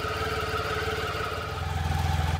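A BMW K75S, a four-stroke three-cylinder motorcycle, runs its engine with a steady, even throb and a constant hum that pulses a little faster near the end, heard alone and close.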